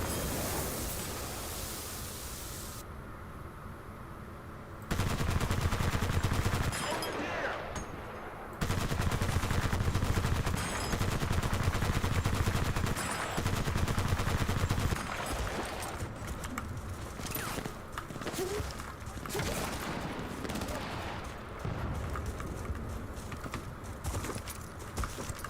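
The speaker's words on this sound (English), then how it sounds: "let me go back to the machine gun" Machine gun fire rattles in Battlefield Bad Company 2, long loud bursts of rapid automatic shots that keep breaking off and resuming, alone with no talking.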